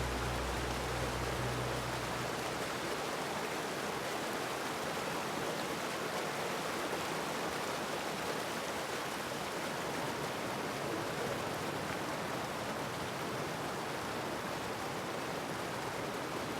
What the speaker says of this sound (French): en témoignent les piscines naturelles et les cascades du wadi Bani Khalid